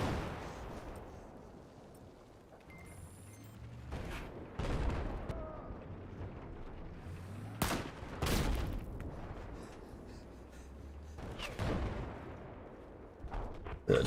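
Distant, repeated bursts of gunfire and explosions in Battlefield 4 multiplayer, a few sharp loud blasts standing out over a rumbling battlefield background.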